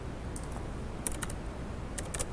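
A computer keyboard clicks under quick typing of a file name, with short bursts of light keystrokes against a quiet background hum.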